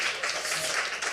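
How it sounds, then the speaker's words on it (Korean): Applause from a church congregation during a sermon, a brief dense burst of many hands clapping at once, steady and moderately loud. "이때 박수 한 번 나와줘야 되는데"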